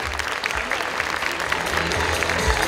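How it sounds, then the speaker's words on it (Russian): An audience at the third round of the "Golden Woman NGMK" contest bursts into dense, steady applause that stays loud and even throughout, with no voice on top. "Ваши аплодисменты!"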